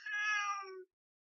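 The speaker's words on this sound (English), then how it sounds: "And that's my other cat, Sam." A pet domestic cat gives one clear, close meow that falls in pitch and ends in a short lower tail, followed by silence.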